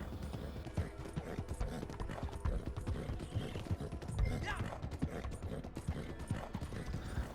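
Horse hooves clip-clop steadily at a gallop in Red Dead Online as a rider follows a railway track, close and continuous under a faint game backdrop.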